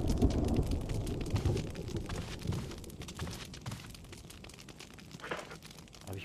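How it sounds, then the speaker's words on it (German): Thunder rumbles with steady rain in the Resident Evil Remaster video game, a loud low roll that builds at the start and slowly fades under continuous rainfall. "Ich hasse den Scheiß Donner"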